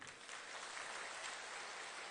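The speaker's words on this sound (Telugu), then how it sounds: "ఒక్కసారి గట్టిగా చప్పట్లు కొట్టండి" A crowd at a Telangana political rally claps loudly together, a dense, steady roar of hands lasting about two seconds with no break.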